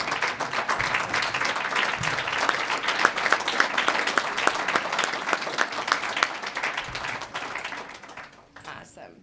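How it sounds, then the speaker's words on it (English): Sustained applause from a ceremony audience honoring student athletes at a university hall of fame induction, dense clapping throughout with some crowd murmur and voices underneath, thinning out near the end. "let's give them a round of applause"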